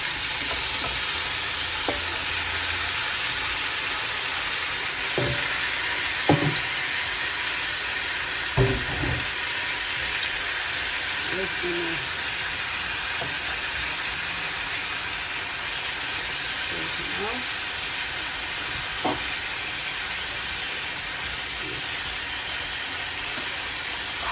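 Marinated stuffing tipped into a hot pan with the ribs' own oil, sizzling and frying steadily while a spoon stirs it, with a few scrapes and knocks against the pan along the way.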